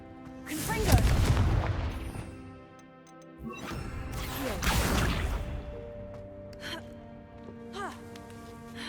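A Confringo fire spell cast in Hogwarts Legacy, heard as two heavy whooshing bursts with booming impacts, followed by lighter crackling ticks, set against background game music and ambience.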